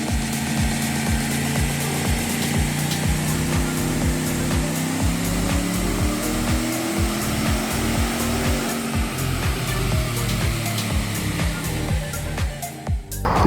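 A supercharged Chevrolet Silverado 1500 with a Walkinshaw Performance supercharger upgrade runs on a dyno, giving a loud continuous engine drone whose pitch slowly climbs and shifts, with a rapid rhythmic pulsing throughout.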